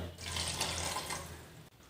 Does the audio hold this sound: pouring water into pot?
yes